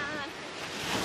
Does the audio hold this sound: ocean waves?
yes